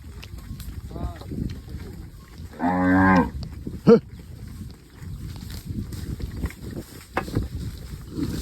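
A single loud, drawn-out moo from a cow rises midway through, surrounded by faint outdoor noise and distant murmuring voices.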